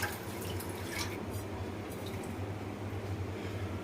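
Water drips and trickles steadily as black-eyed peas are strained to separate out stones, a soft continuous wet patter close by with no talk.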